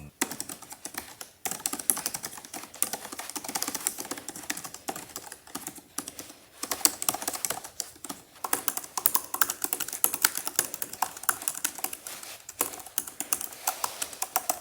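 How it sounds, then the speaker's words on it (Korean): Rapid clicking keystrokes on a budget iPad keyboard in the style of a Magic Keyboard, with deep key travel, tapping in quick irregular bursts with brief pauses, close and fairly crisp, with no talking. "키감은 매직 키보드보다 조금 더 깊게 들어가는데 타건 소리 한번 들려드릴게요."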